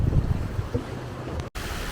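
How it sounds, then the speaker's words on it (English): Gusty wind blowing over open water at Historic Spanish Point in Florida, a steady roaring rush with buffeting on the microphone and a brief dropout near the end, without talk. "the wind isn't bad if you're inland, but if you're out on the water, it is gusty"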